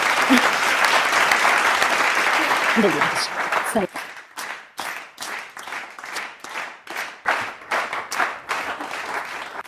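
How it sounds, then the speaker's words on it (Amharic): An audience at an Ethiopian talk show bursts into dense, loud applause that thins after a few seconds into scattered, rhythmic individual claps fading in and out. "ጭብጨባው ነው የሚቀርበው።"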